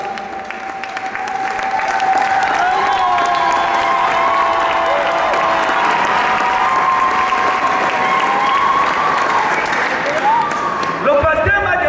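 An audience at a church ceremony applauds for Mrs. Omba Nemba, honoured at a pastor's retirement celebration: steady, dense clapping from a large crowd with cheering voices and a sustained vocal ululation over it, lasting throughout.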